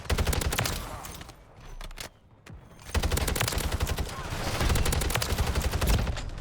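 Automatic gunfire in the Modern Warfare 3 video game, with loud rapid bursts of shots, a brief lull, then sustained heavy firing close up, with no talking over it.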